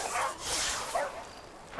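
Dog barking in the Far Cry 5 video game, a few faint yips and barks amid soft background game sound.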